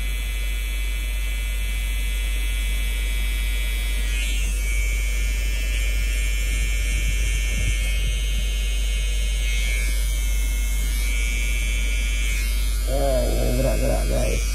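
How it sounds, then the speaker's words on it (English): An electric hair trimmer buzzes steadily and close up while cutting a boy's hair into a mullet, a constant low electric hum with shifting pitch as it moves, and a brief faint voice near the end. "macam biasa kita pakai trimmer"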